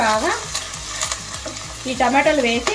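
A spoon scrapes and stirs tomatoes and curry leaves frying in a hot pan in quick, rhythmic strokes, with a steady sizzle close up.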